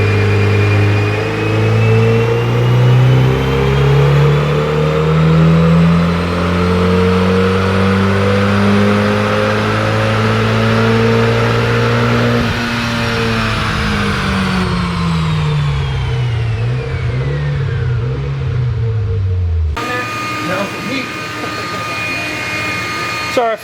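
Stock 2007 Subaru STI on a dyno, engine pulling hard through a long, loud rising sweep that peaks and then winds down, followed by a quieter idling tail.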